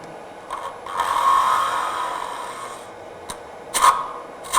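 A spindle gouge cutting wood on a lathe gives a scraping, rasping hiss that swells and fades, followed by brief sharp catches and scrapes near the end.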